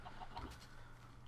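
Chickens cluck softly in the video game Minecraft, a few short, faint clucks in the first half of a quiet moment, with no speech.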